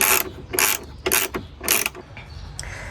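A hand ratchet unbolts bolts on a Honda Pioneer UTV door, giving several sharp, close bursts of rapid clicking separated by short pauses.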